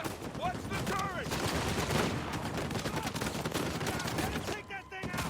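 Rapid turret gunfire in the video game Uncharted 4 rattles continuously in dense bursts, with shouted voices cutting through the combat.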